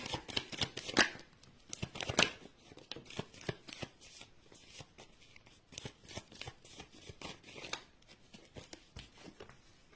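Tarot cards shuffled by hand in a rapid, uneven run of close, crisp riffles and flicks, with brief pauses between bursts and no talking.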